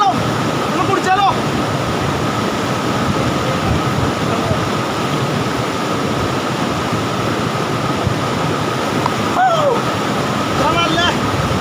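Adyanpara waterfall roars as a loud, steady broadband rush of falling water, continuous and close throughout, with brief faint voices over it.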